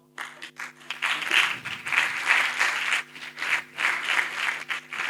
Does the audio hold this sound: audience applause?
yes